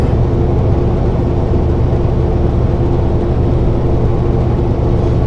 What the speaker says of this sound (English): you can hear every creak and rattle in the truck